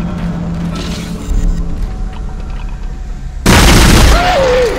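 An exploder enemy bursting in Dead Space: a sudden loud blast partway through that is followed by a sustained roaring wash, heard after a stretch of low ambient rumble.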